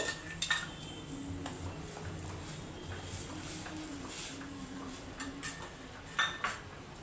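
Mustard paste stirred into a simmering hilsa fish curry, metal spoon scraping and clinking against the pot at irregular intervals over a faint bubbling background, no speech.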